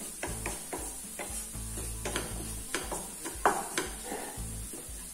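Paneer masala base sautéed over a low flame for a restaurant-style paneer masala: a spoon scrapes and stirs the pan in steady strokes over a soft, continuous sizzle, close and fairly quiet, with no talking.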